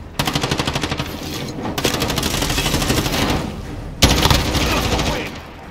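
Automatic gunfire in the video game Warzone, rapid loud bursts of machine-gun fire rattling continuously with a heavier volley near the end, no talk over it.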